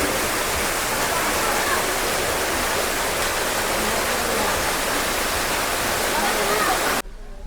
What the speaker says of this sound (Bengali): টপ টপ টপ টপ করে মাথার উপরে জলগুলো পড়ছে।